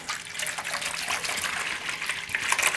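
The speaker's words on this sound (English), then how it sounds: "Let's pour this in." Whole milk poured from a heavy jug into a bowl, making a steady, close liquid gush that runs continuously without pause.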